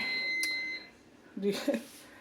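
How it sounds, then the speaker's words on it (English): Kitchen timer beeping while biscuits bake in the oven: a steady high tone at the start, then a few short beeps close by in a kitchen. "Timer just went off, y'all."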